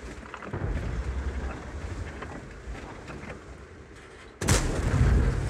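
Tank cannon fire in World of Tanks, a booming shot with rumbling battlefield ambience, followed by a loud, sharp blast near the end that stays heavy and sustained.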